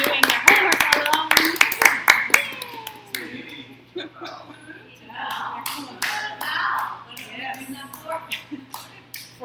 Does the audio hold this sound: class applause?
yes